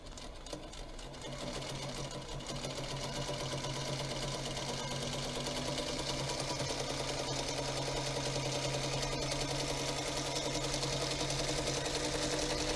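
Singer Featherweight sewing machine stitching with heavy thread, a fast continuous mechanical whir and rapid needle chatter, close and steady for the whole stretch.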